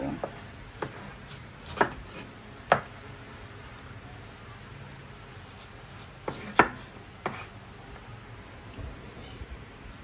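Onions being sliced into rings on a board, sparse knife chops landing as sharp isolated knocks over a low steady background hiss, close by and moderately quiet.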